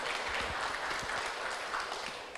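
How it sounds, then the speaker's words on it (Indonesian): Audience applause for five competing school teams at a junior high Quran quiz contest, a steady broadband wash of clapping lasting throughout, fairly even and moderately loud. "Berikan tepuk tangan yang meriah untuk kelima regu kita."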